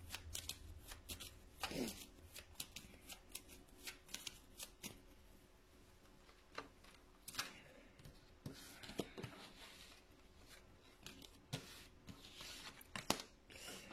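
Tarot cards being shuffled by hand, a run of soft riffling and sliding swishes with brief papery snaps, close and fairly quiet, with no talking.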